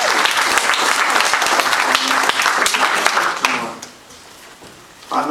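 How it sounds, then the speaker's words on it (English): Loud audience applause at an ambassadors' reception, a dense sustained wash of many hands clapping that drops off sharply near the end before a brief swell. "Round of applause, please."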